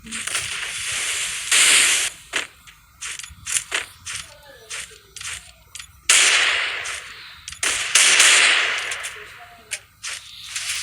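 Gunfire from a shooting video game comes in sharp, loud cracks and short bursts, some in quick clusters and a few longer volleys, separated by brief lulls.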